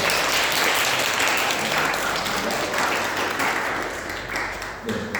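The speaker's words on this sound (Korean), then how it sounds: "우리 자매 잠깐 일어나면 큰 박수로 환영하겠습니다." A church congregation at Sunday worship gives steady, full applause to welcome a visitor, a dense wash of clapping that fades slightly near the end.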